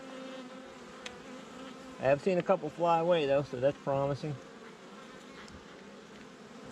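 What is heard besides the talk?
honeybees buzzing in a beehive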